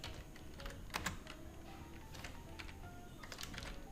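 Keys on a computer keyboard clatter in short, irregular bursts of quiet taps and clicks, close but soft, with pauses between flurries and no voices.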